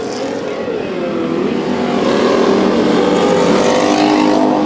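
Hobby stock race cars roaring around Bakersfield Speedway during a heat race, a loud, sustained engine drone that builds steadily as the pack passes close, with no voices.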